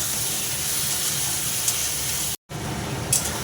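Ginger, cumin, ground coriander and dried Kashmiri chilli fry in a pan, giving a steady close sizzling hiss throughout, broken by one brief dropout partway through.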